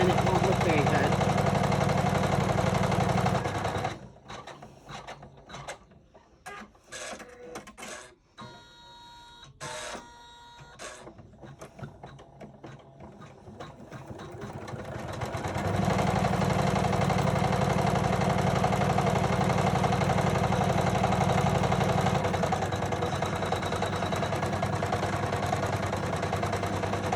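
An embroidery machine stitches a Christmas bells ornament, its steady mechanical whir pausing midway for a stretch of clicks and handling noises before the running hum resumes, with a person talking over it.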